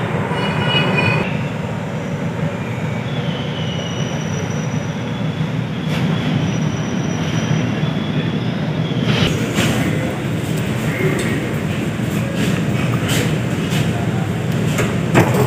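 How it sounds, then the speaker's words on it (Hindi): A Delhi Metro Grey Line train rumbles into a station with a steady roar, wheels squealing faintly and a hiss of brakes near the end. "ये मेट्रो अभी आया"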